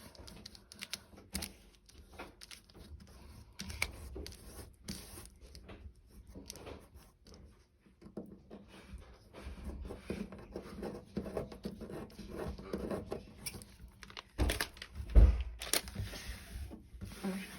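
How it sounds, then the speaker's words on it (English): Paper is rubbed off collage tape by hand, giving soft, scratchy, irregular scuffing strokes at close range, with a louder rub near the end. "you're just going to keep on rubbing till the paper comes off"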